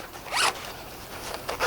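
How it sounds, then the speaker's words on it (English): A zipper closes on a fabric multi-pocket storage bag for a Jeep Wrangler, one quick rasping pull close to the mic, followed by a shorter zip tug near the end amid quiet room tone. "But we can zip that up"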